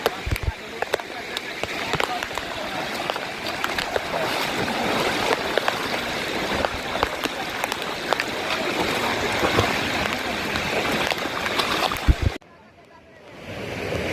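A swollen stream rushing after hours of heavy monsoon rain on a trek to Lingyaghat waterfall, a loud, continuous broadband roar of churning water close by, cutting off abruptly near the end to a dull hum.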